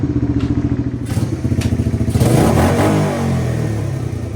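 A 1986 Suzuki Quadrunner LT250EF ATV chugs in second gear, then its engine note rises into a louder, rougher roar as it accelerates, with clattering and thumps close by.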